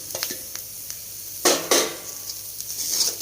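Gram flour and onions roasting in a pan for masala bhindi, with a spoon scraping and clinking against the pan in short strokes and two louder stirs midway over a soft sizzle.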